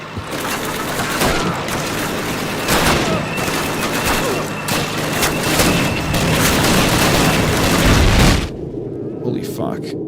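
Tanks blow up in a Call of Duty Soviet campaign battle. Dense, overlapping booms and gunfire roll on almost without a break, then cut off sharply near the end.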